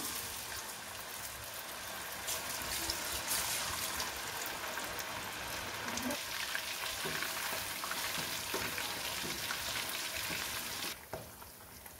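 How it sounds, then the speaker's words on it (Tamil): Small anchovy fish deep-fry in hot oil, a dense, continuous sizzle and crackle that swells after a couple of seconds and cuts off sharply near the end, close up, with no talking. "கொஞ்சம் கொஞ்சமாக மீன் எடுத்து ஆட் பண்ணிக்கலாம். இது நல்லா டீப் ஃப்ரை பண்ணிக்கலாம்."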